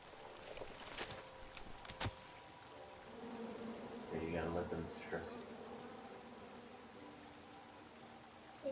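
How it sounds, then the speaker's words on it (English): A swarm of bees buzzing in a King's Quest adventure game, a faint, steady drone that swells in the middle, with a few clicks and soft game ambience around it. "Come at me, bees!"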